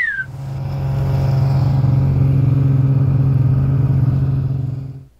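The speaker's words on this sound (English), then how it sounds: "thank our dear friend for letting us borrow her snow machine. This thing is a ripper." A borrowed snowmobile riding across frozen Lake Tustumena in Alaska, its engine droning steadily and loudly with a buzzing, even tone before cutting off at the end.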